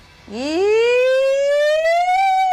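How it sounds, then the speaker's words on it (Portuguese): A loud siren sound effect is played by a DJ on a Brazilian football talk show. It gives one rising wail that sweeps up and holds, up close and alone. "Cadê a sirene, DJ Careca"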